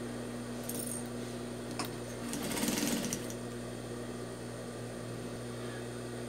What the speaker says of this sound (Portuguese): eu vou costurar toda a volta